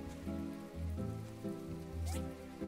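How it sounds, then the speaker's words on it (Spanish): Rain falls in the video game My Time at Portia, a steady close patter that runs the whole time beneath looping in-game music. "¡hostia! Está lloviendo."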